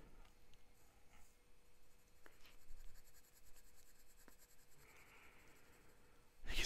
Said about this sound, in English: I'll do another ink swatch here